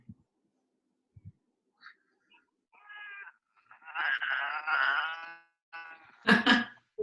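An annoyed indoor cat, bothered by two other cats, gives scattered short chirps and then a run of drawn-out, wailing meows close by, ending in a louder, sharp yowl, with quiet gaps between calls.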